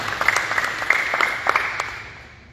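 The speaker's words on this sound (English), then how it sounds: "let's go ahead and round of applause." A crowd at a veterans memorial service in Deer Park claps in a short, moderately loud round of applause that fades out over a couple of seconds.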